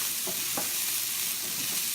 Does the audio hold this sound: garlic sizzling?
yes